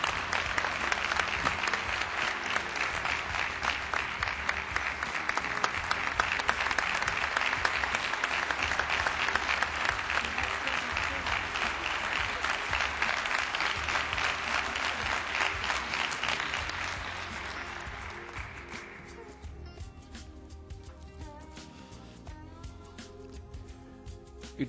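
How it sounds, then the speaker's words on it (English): Warm applause for an honoured guest at a spiritual event's inauguration, a loud, continuous crowd clapping that holds for about sixteen seconds, then thins and fades to scattered claps and room noise. "Please give a very big clap to Shreyans Daga."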